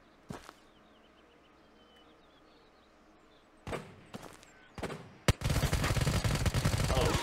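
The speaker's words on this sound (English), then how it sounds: "he's shooting back" Gunfire in the video game Ghost of Tabor: a lone shot, then a sparse cluster of sharp cracks, followed by a sustained loud burst of rapid automatic fire.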